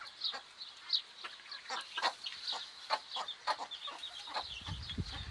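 Hens cluck and chatter inside a coop, many soft overlapping calls at a moderate distance, with a low rustle near the end.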